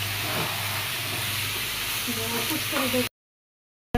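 Chicken curry with fried potatoes sizzles loudly in a pan, a steady close hiss and crackle that runs for about three seconds before cutting to silence.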